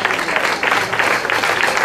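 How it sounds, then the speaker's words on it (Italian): Spectators at a slalom car race in Oppido Mamertina clap together at an award moment, a dense patter of applause that runs under an announcer's voice. "Un applauso, un applauso, facciamo un altro applauso"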